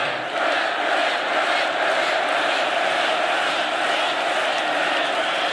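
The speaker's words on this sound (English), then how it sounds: "This is a feisty little crowd, isn't it?" A political rally crowd cheers and shouts continuously, a dense, loud roar of many voices that holds steady throughout.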